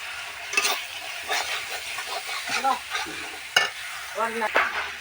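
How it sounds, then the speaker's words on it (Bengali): Tomato spice masala with turmeric powder frying in a pan, its steady sizzle broken by repeated scraping strokes of a spoon stirring close up, with no talk. "এবার আমি এর মধ্যে পরিমাণ মতন হলুদের গুঁড়ো দিয়ে দিচ্ছি"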